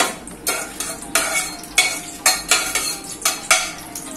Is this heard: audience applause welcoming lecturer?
no